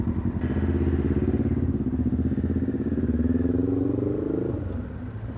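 Triumph Tiger 1200 motorcycle engine under way while riding, a steady loud mid-pitched drone with rising revs, close and continuous for the whole stretch before easing slightly at the end.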